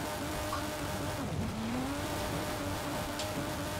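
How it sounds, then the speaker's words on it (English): A car engine revving during a rally-style race in Forza Horizon 5, a mid-level engine tone rising and falling under a constant wash of road and tire noise. "revving that engine"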